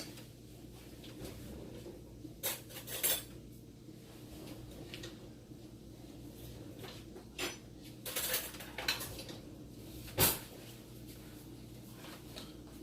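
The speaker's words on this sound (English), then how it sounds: "So I'm going to get me a spoon here." Fetching a spoon in a home kitchen while making chicken and dumplings: scattered metallic clinks and clatters of cutlery and dishes, with a few sharper knocks, near but fairly quiet, with no voices.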